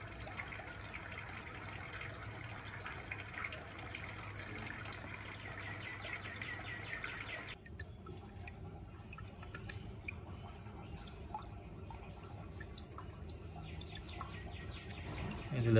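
Water falls steadily from tanks in a working aquaponics setup, a constant close splashing trickle and drip that continues alone throughout, with a faint bird call in the background.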